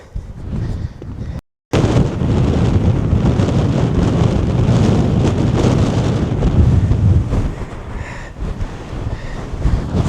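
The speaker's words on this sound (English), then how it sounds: "So wind, it's like being back in Shetland." Strong wind roars across open moorland, buffeting the microphone in a loud, continuous rumble with one brief dropout near the start.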